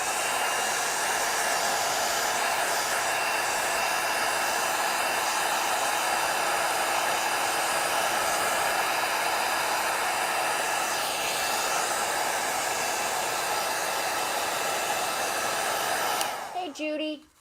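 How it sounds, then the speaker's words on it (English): A heat gun blasts a steady, loud hot-air roar while drying a watercolor drawing, holding an even whoosh for about sixteen seconds before cutting off abruptly at the end. "let me whack this with a heat gun real quick"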